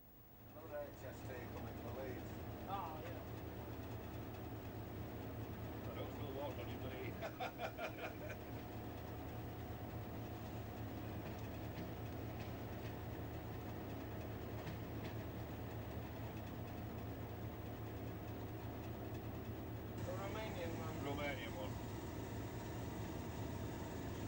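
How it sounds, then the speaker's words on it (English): A British Rail HST high speed train passes through Doncaster station in 1985, giving a steady, fairly distant rumble and engine drone with faint rail clatter, while people talk quietly nearby. "Another HST coming for Leeds."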